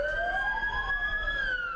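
Ambulance sirens racing through one of the busiest parts of central Istanbul, a loud close wailing tone sweeping up and down over faint low traffic rumble, no talk.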